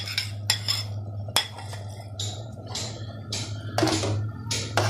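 A spoon stirs mashed boiled chickpeas in a pot for Lahori black-pepper chana, giving repeated clinks and scrapes of metal against the pot over a steady low hum.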